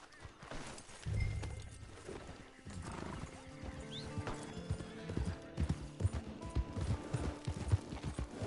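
Horse hooves clip-clop in the video game Red Dead Online, irregular thuds growing busier toward the end, with a few snorts or whinnies and faint background game sounds; no one speaks.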